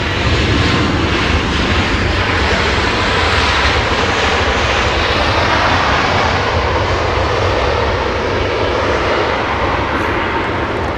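A British Airways jet airliner at Los Angeles International Airport roars loudly and continuously with dense, broad engine noise that holds steady for the whole stretch, close and with no pauses.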